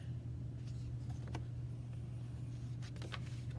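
A car's engine runs with a steady, low hum as the vehicle pulls away, holding a constant moderate level throughout with no voices.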